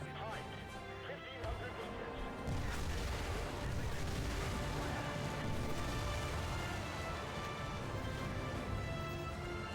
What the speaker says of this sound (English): we're firing all the missiles off now